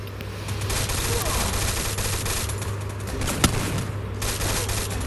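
Gunfire in the mobile battle-royale game Free Fire, a dense continuous rattle of automatic shots with one sharper crack partway through, steady and fairly loud throughout.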